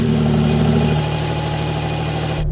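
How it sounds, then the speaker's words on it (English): A new Porsche 911 T-Hybrid engine idles steadily after a cold start at close range, a low, even rumble that holds constant before cutting off abruptly at the end. "Let's have a listen to the cold start on this new T-hybrid engine."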